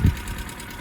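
A cheap $1000 budget race car engine idles with a tick and a suspected misfire, a steady low rumble opening with a brief louder thump, nearby and alone.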